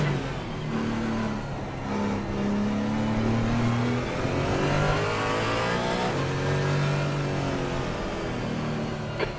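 Race car engines howl in a multi-class endurance race at the Nurburgring in a racing video game, a continuous revving drone with rising and falling pitch as cars accelerate and shift.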